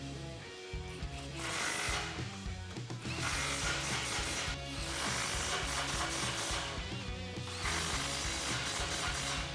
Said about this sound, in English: we're gonna tighten down these factory clamps up at the front